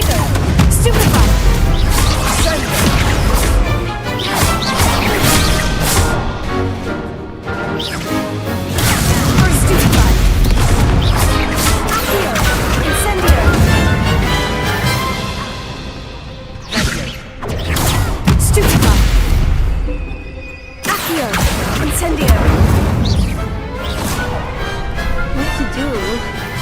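Spell combat in the video game Hogwarts Legacy, with Stupefy casts: dense, loud bursts of crashes, booms and thuds keep going almost without pause, with brief lulls near the end and voices shouting throughout.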